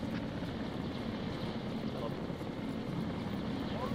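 A helicopter in the military video game Arma 3 drones steadily with a dense, constant rotor and engine roar that fills the whole stretch without letting up.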